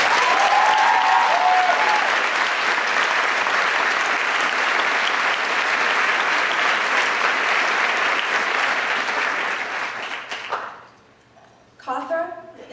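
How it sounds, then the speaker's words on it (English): A school crowd at a valedictorian speech claps loudly and steadily for about ten seconds, then the clapping fades out into near quiet, and a voice starts speaking at the end. "I think they deserve a grand applause for that"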